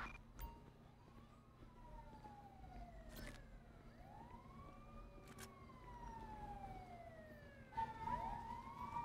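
An ambulance siren in the video game LSPDFR wails in long rising and falling sweeps, fairly quiet and somewhat distant, over a low engine hum.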